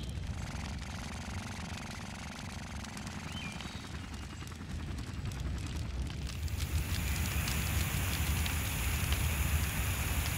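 Cartoon fire crackles and roars as a dense hiss that swells louder and brighter toward the end, with no one talking.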